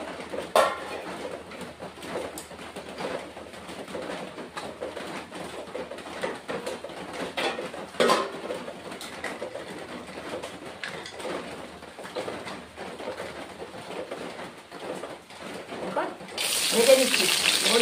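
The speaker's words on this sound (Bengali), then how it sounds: "তা আমি একটু ধুয়ে নিচ্ছি।" Dried lentil dumplings are rinsed under a running tap, with a continuous splash of water and light clatter of a utensil, and a brief louder gush of water near the end.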